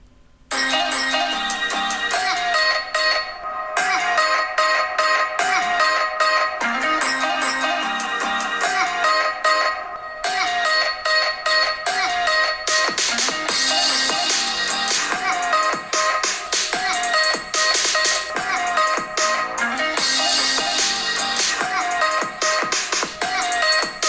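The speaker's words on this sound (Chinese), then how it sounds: "那我们这边就赶快来实测一段这个喇叭比较给各位听听看" Music plays at full volume through the stereo speakers of a Samsung Galaxy Z Flip3 5G foldable phone with Dolby Atmos, loud and continuous with brief pauses between passages.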